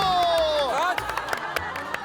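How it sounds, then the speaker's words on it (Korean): A television studio audience breaks into scattered clapping, the loose, uneven claps arriving after a bright sliding whistle-like tone, with crowd noise beneath. "박수!"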